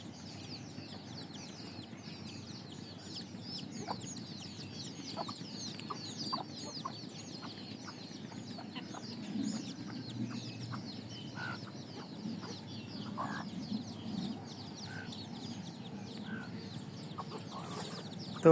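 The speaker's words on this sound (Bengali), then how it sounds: "তো দুষ্ট দেশি মুরগি, হতিনের মতন একটার একটা ঠোরকায়" Desi hens on a small village farm cluck softly in scattered bursts while pecking at each other, faint and somewhat distant over a quiet outdoor background without speech.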